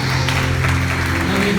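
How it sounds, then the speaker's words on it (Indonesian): A short burst of loud congregation applause during a church service, dense clapping throughout. "Yang setuju kita berikan tepuk tangan buat Tuhan Yesus"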